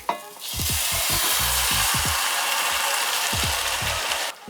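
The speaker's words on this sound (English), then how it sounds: "we're going to let this simmer" Tomatoes and chicken simmer in a pan for Margherita chicken cooked in an RV kitchen, a loud, steady bubbling sizzle with utensil clunks and scrapes against the pan.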